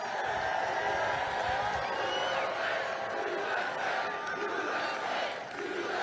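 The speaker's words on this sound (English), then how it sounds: "They're doing the USA chant." A large outdoor political rally crowd chanting in unison, a dense sustained roar of many voices with rhythmic swells, heard from a distance throughout.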